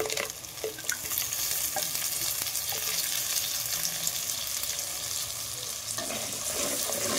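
A tomato and onion paste fries with spices in a clay pot, giving a steady close sizzle broken by a few scraping stirs, with no voices.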